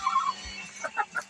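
Hens settling in a chicken coop at night, a few soft, close clucks and murmuring calls in short bursts against a quiet background.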